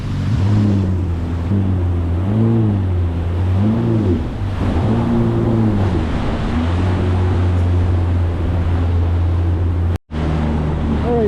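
A Yamaha FX SVHO/HO WaveRunner jet ski engine is held under 5,000 RPM during break-in, with a loud, steady engine drone whose pitch rises and falls several times as the throttle is varied, broken by a brief cut near the end.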